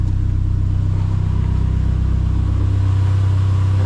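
A Dodge Neon SRT-4 engine held at steady high revs in first gear with the wheels spinning, a loud continuous droning hum close by with no talking.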